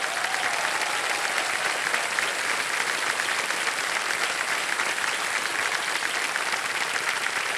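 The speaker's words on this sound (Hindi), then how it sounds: "जोरदार ताली और बज जाए" A studio audience at the Indian quiz show KBC applauds loudly in a dense, unbroken wash of clapping that holds steady for the whole stretch with no talk over it.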